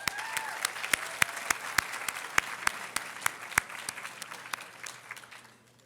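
Audience applause for Elaine Jones as she comes up to give opening remarks at an awards dinner: a dense, steady clapping crowd with a few sharp, loud claps standing out, fading away at the end.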